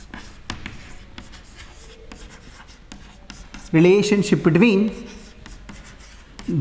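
Chalk or marker scratching across a board during a physics lecture, soft scraping strokes in short bursts, with the teacher's voice breaking in loudly partway through.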